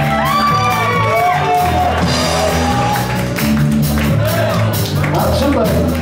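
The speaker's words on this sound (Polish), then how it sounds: "Śmiało brawa dla niego" A lively crowd at a Polish comedy or stage show in Wrocław shouts and whoops over scattered claps, with voices calling out and overlapping in a noisy, close cheer.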